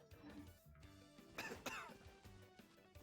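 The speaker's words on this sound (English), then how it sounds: "Baizhu, please stop coughing." Baizhu, a character in a video game, coughs in two sharp, close bursts in the middle, faint and set against quiet game music and ambient sound.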